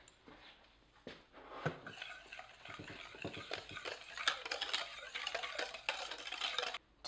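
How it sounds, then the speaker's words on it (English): Sugar, cornstarch and a pinch of salt whisked constantly in a pot on the stove, a quiet, busy run of scraping and clinking strokes with sharper taps scattered throughout. "So I have this on the stove, whisking constantly"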